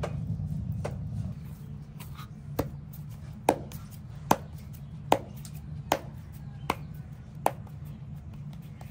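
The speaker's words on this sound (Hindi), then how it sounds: "और हल्के हल्के कट लगा लेंगे हम इसके बैक साइड पर।" A knife makes light scoring cuts into a whole chicken for Lahori chargha in a village kitchen, giving about eight sharp, evenly spaced taps on the board over a steady low hum.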